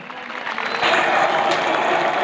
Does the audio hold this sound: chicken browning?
no